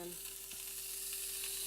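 Bacon sizzling and frying in a short pan alongside a pancake, a steady close crackling hiss over a faint low hum.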